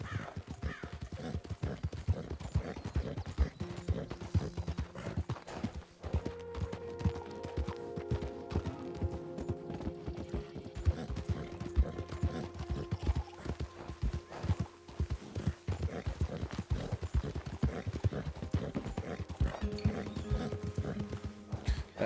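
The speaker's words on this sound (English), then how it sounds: "That horse sounds so tired right now." Horse hooves clop in a steady, continuous rhythm for a long stretch, fairly loud and close, with an occasional whinny-like sound, in the video game Red Dead Redemption 2.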